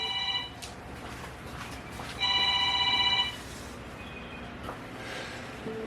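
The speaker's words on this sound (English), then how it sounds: "the phone's ringing" A telephone rings in a home kitchen, two bursts of bright electronic ringing about two seconds apart, clear but not very loud against quiet room noise.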